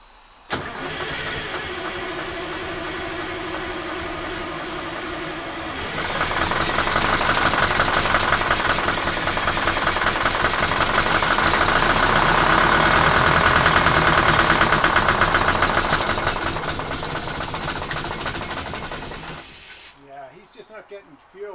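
Detroit 8V71 diesel in an MCI bus starting for the first time in 15 years, idling loud and close, then swelling to a harsher, rising roar midway before easing back and cutting off near the end.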